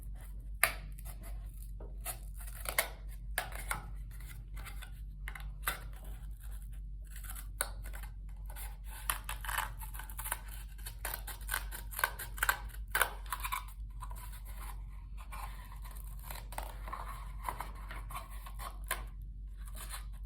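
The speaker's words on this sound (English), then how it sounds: "now that we've cut a hole into the cardboard tube and into our plastic cups" Scissors snip and scrape through a cardboard tube and plastic cups for a homemade smartphone speaker, a series of close, uneven cutting and handling noises over a low steady hum.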